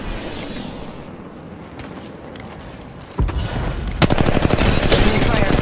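Gunfire in Apex Legends Mobile starts as muffled, distant pops under game ambience, then turns into loud, close bursts of rapid automatic shots in the final seconds.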